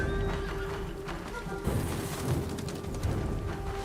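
In Ghost of Tsushima, a horse whinnies loudly and up close, with hoof clip-clop and a dense game soundscape running underneath throughout.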